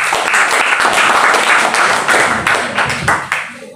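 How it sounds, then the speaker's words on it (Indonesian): A church congregation at a family worship service applauds in a dense, lively burst of close claps. The clapping is loud at first and thins out toward the end, with a few scattered individual claps. "Beri tepuk tangan dalam itu"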